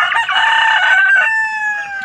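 Chickens calling loudly up close, a single drawn-out crowing-like cry with clucking at the start, lasting about two seconds with no talk.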